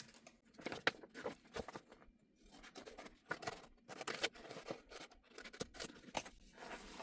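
Scissors cutting through the middle of a folded Christmas gift bag, close, crisp snips and paper crunches in irregular bursts with short quiet gaps between cuts.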